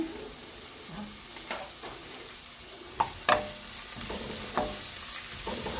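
Onion, ginger and garlic frying for beef pulao give a soft continuous sizzle, broken by scattered scrapes and knocks of a stirring spoon against the pan.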